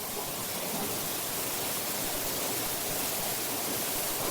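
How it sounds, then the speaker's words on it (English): Storm-swollen creek in Georgia after Hurricane Helene, water rushing over and around its banks in a steady, loud, broadband roar with no pauses and no voices. "the water's flowing over here, down into this terrain here, find its way around these banks"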